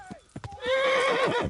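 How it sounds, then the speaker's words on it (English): A horse in the medieval video game Kingdom Come: Deliverance, after some hoof clip-clops, lets out a loud, close, drawn-out whinny that rises and falls. "The horse has bucked us off."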